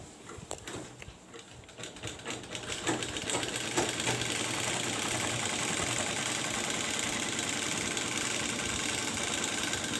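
Sewing machine stitching a seam on a gents' kurta, a steady mechanical whir that starts quietly with a few uneven bursts, then settles after about three seconds into a continuous loud drone that runs to the end.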